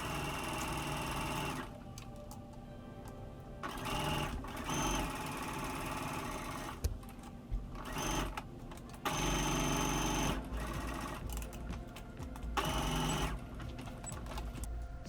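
A sewing machine stitches a plush horn in quick mechanical bursts of rapid rattling, stopping and starting several times with short quieter pauses between runs, close and moderately loud, with no talking.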